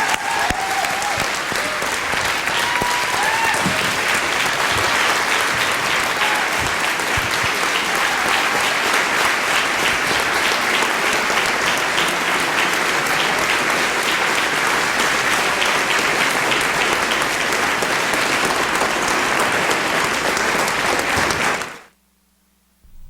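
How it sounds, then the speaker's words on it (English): A large audience gives sustained, loud applause to four candidates after a 2004 third-party presidential debate, a thick unbroken wall of clapping for about twenty seconds that cuts off abruptly at the end. "let us now join in a round of applause to thank our four speakers"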